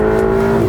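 A Ferrari 488 GTB's engine roars loud and close on the track at Exotics Racing Las Vegas, a steady, strongly pitched drone that holds for a brief moment with no talk over it.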